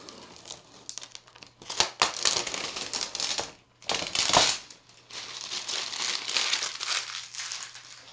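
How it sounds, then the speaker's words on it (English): Protective plastic film peeled and crumpled off a new Razer ProType keyboard during an unboxing, a close, steady stretch of crinkling and tearing with brief pauses and sharper bursts. "So I'm going to peel all this off."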